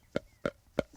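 A man flicks his tongue to imitate a buck deer's clicking sound, producing three sharp, evenly spaced clicks close to the listener with silence between them.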